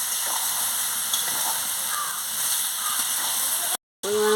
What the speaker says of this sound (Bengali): সবজিগুলো ভেজে রেখেছিলাম দিয়ে দিচ্ছি, তার সঙ্গে ভালো করে কষিয়ে নিচ্ছি।